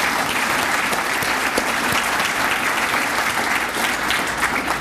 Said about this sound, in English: let's give those folks a round of applause as well